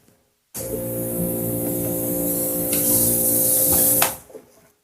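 A drain jetter nozzle sprays water into a 1.5 inch sink trap, a sudden loud, steady hiss of pressurized water that runs about three and a half seconds, grows harsher, then cuts off abruptly.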